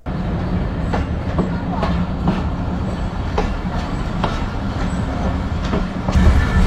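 An old vacuum-braked rake of the Modhumoti Express train rolls along with steady rumbling and rhythmic clicks from wheels on rail joints, loud and close throughout, with no clear talking.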